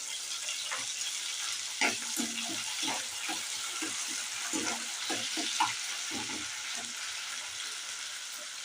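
Chopped onions and fenugreek leaves fry in a pan with a steady crackling sizzle, broken by irregular stirring scrapes and clicks, fairly close and moderately loud.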